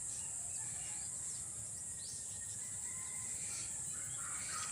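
Several birds chirp and call over a continuous high insect drone, fairly faint and outdoors on a farm by a rice field, with no talking.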